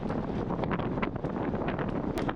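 Constant loud wind buffeting the microphone of a cyclist riding in a road race, gusty and roaring throughout with no voices.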